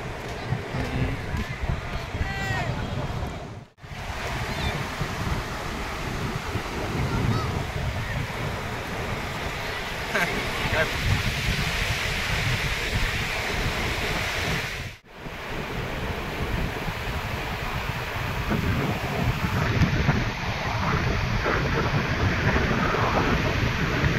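Sea waves at Bhuigaon Beach wash in as a steady, broad roar with wind buffeting the microphone, continuous apart from two brief dropouts.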